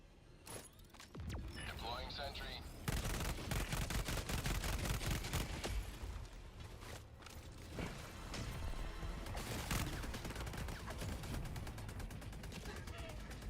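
A deployed sentry turret in the co-op shooter Helldivers 2 unleashes sustained rapid automatic fire, loud bursts layered with explosions and mechanical clanks, while a voice speaks over parts of the action.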